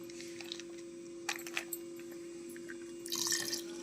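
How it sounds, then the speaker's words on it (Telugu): Milk poured from a packet into a pot on the stove for sweet pongal gives a few short liquid splashes and a brief louder pouring rush near the end, set against a steady background hum. "అలాగే ఒక హాఫ్ లీటర్ కూడా పాలు అయితే పోసుకుందాము"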